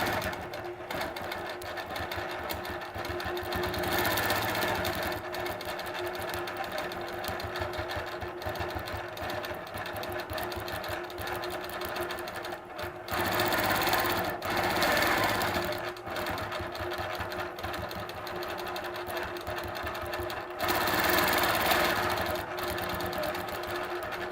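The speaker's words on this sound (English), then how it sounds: "you don't really need to watch me quilt that whole thing out" A sewing machine quilts a scrolling S-curve border along a template, humming steadily with rapid needle strokes. Its speed surges several times, with a few short pauses.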